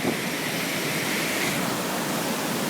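River water pours out of the south outlet of Manitouwabing Lake into the Seguin River as a close, dense, continuous rushing roar, steady throughout with nothing else heard.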